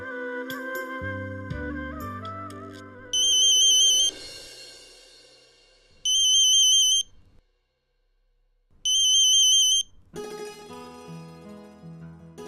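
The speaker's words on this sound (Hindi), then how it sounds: "मैं ओवी को फोन कर लेती हूँ।" An electronic phone ring sounds three times in evenly spaced bursts of about a second each, with music playing before and after.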